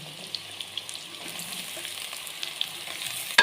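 Sliced carrots frying in a pan give a soft, steady sizzle, broken by small scattered pops and ticks and closing with a sharp clatter of a utensil, close and clear, no voices.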